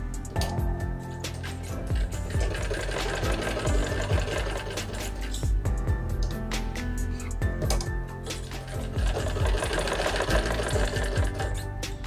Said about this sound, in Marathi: तर अशाच प्रकारे आपल्याला शिलाई देऊन घ्यायची आहे।